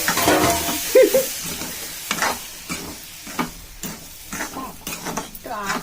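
Rava ladoo mixture of semolina, butter, sugar and milk stirred in a pan, giving soft repeated scraping strokes over a faint sizzle, close and moderately loud, with no talk.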